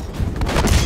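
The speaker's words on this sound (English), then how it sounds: "these guys got shotguns, so they really hurt" Enemy shotgun fire in Uncharted: Drake's Fortune, a dense burst of booming blasts packed into under a second, loud and close with heavy low-end thump.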